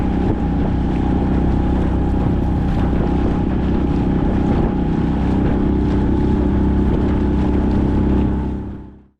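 A 6-horsepower outboard motor on an inflatable kayak boat drones loudly and steadily while wind buffets the microphone, then cuts off abruptly at the end.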